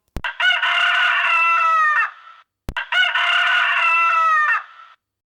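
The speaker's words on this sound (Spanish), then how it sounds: "Luego, al salir el sol, Gallo despertó y cantó." A rooster crows loudly twice in a children's story, each long cock-a-doodle-doo opening with a sharp click and holding for about two seconds before a short pause and the repeat, clear and close with nothing else behind it.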